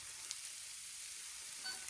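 Mushrooms fry in a pan with a soft, continuous sizzle and faint crackles, quiet and steady with no voices.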